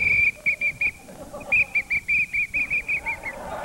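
A whistle is blown at someone in a park in a rapid series of about a dozen short, shrill, evenly spaced blasts, loud and close, with no talking.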